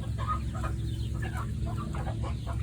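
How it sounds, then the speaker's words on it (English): Black-and-white hens cluck steadily at close range, their short overlapping calls forming a busy flock chatter over a constant farmyard background. "All of the happy hens are black and white."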